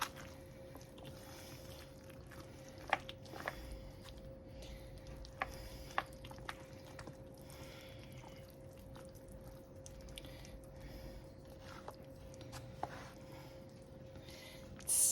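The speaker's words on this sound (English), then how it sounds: "We're going to give this a nice stir." A spoon stirring melted queso cheese dip mixed with salsa fresh from the oven, soft squelching and sticky wet sounds with occasional light clicks against the dish, quiet and close over a faint steady hum.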